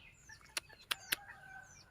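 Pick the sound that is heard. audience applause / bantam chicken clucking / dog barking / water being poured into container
bantam chicken clucking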